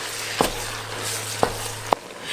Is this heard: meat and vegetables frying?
yes